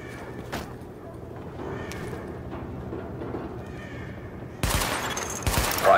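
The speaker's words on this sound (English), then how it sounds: "Open fire at the highlighted targets." Gunfire from a weapon test at highlighted targets in The Division video game, heard as loud bursts of shots near the end after a stretch of quiet background ambience.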